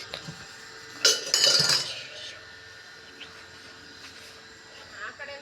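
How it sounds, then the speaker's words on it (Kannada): Kitchen dishes and decorative items being washed, with a short cluster of sharp clinks and clatters near the start, then quieter occasional knocks over a steady background hum. "ಕಿಚನ್ಲಿರೋ ಪಾತ್ರೆಗಳೆಲ್ಲ ತೊಳೆದಿದ್ದಾಯಿತು. ಇವಾಗ ಡೆಕೋರೇಟಿವ್ ಐಟಮ್ಸ್ಗಳನ್ನ ತೊಳಿತಾ ಇದ್ವಿ"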